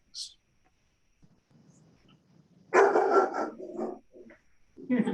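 A dog barks and whines in short bursts at a moderate distance, with a few sharper yips near the end.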